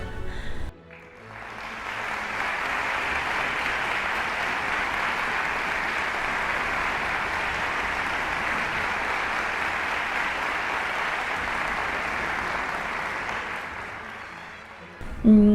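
Classical concert audience applauds warmly, a broad steady roar of clapping that swells in after a brief pause, holds evenly for over ten seconds, then drops away abruptly before a final noise.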